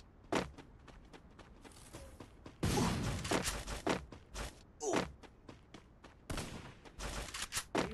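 Bursts of gunfire crack in repeated volleys during a firefight inside the closing gas zone of a battle royale video game, loud shots in clusters with short pauses between exchanges.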